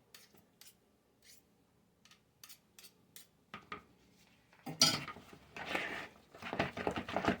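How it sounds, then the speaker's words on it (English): A spoon mixes deviled egg filling in a bowl, starting with a few sparse light clicks and scrapes, then growing into denser, louder mashing and scraping strokes toward the end, close by and with no talking. "we're going to go ahead and mix this. Let me go ahead and get my spoon for this."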